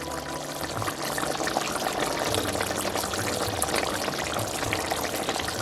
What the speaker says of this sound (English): just top it up a little bit more with some water